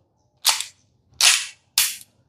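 Three sharp, loud pops from a CO2-powered airsoft gun, fired singly with short gaps between shots, each with a brief bright hiss of gas release, no talking.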